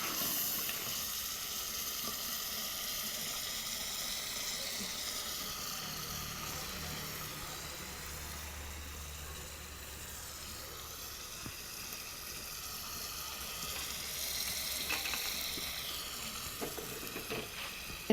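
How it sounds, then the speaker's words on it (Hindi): Tadka tempering sizzling in hot oil while curry (salan) cooks in a home kitchen during Ramadan, a continuous frying hiss with occasional stirring clinks and a brief stretch of running water. "अम्मी जी सालन वगैरह बना रही है, तड़का वगैरह लगा रही है।"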